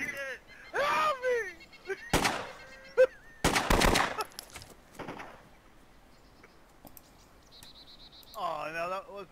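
Gunfire in the DayZ video game roleplay: a few loud, sharp bursts of shots around the middle, with excited voices talking before and after.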